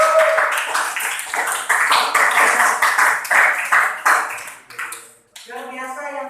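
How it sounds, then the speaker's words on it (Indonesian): Students in a school classroom clap together in a quick burst of applause that lasts several seconds. The clapping fades out and a teacher's voice follows. "Tepuk tangan tuh kalian semua."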